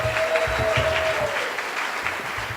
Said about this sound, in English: When we announce somebody's name, you applaud, okay?